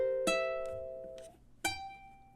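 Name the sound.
ukulele fingerpicking measure 10 of an etude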